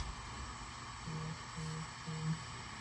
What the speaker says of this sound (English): Well, the fan is definitely working. Y'all can hear that jet engine.